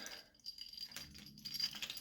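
A few brief jingles of a keyring with small keychain charms, handled up close and fairly faint, with no talking.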